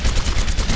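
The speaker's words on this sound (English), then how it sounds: "When it's active, aim in the direction of an enemy and open fire." Rapid automatic gunfire from Soldier 76's rifle during Tactical Visor in the video game Overwatch, a loud, dense burst of evenly spaced shots with no pauses.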